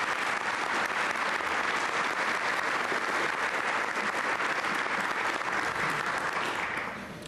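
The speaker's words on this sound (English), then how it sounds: "Give them a round of applause." An audience at a talk on high-speed rail in Illinois breaks into loud, steady applause that holds for about seven seconds before tapering slightly at the end.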